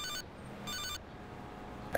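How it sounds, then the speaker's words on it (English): Phone ringing in the video game GTA Liberty City Stories, two bursts of electronic ring, each about a quarter second long, over faint game background, with a louder sound cutting in at the very end. "I'm gonna wait for a phone call."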